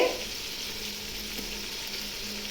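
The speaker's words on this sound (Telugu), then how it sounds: "ఇప్పుడు బాగా పచ్చివాసన పోయే వరకు అల్లం వెల్లుల్లి పేస్ట్ను బాగా వేగనివ్వాలండి" Ginger garlic paste sizzles and fries steadily in a pan, a continuous close hiss with no break for the whole stretch.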